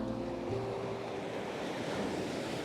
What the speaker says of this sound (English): I love the water rushing back into the ocean.